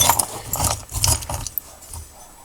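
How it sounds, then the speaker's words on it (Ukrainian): Old rusty metal wrenches from a scrap-metal collection point jangling and clinking together close up, a few quick bursts of metallic rattling that fade out toward the end. "Ключі."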